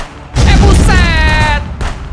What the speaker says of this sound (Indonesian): Wah, ada granat juga, guys.